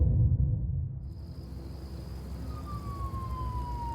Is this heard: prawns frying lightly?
no